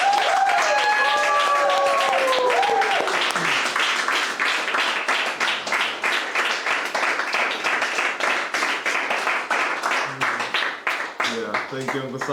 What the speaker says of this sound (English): Let's give a round of applause to Simon.